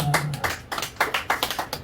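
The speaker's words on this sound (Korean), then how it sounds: "하나님 앞에 영광의 박수 올려드리시겠습니다" A church congregation claps together in a quick, steady rhythm, a short run of close, even claps with no talking.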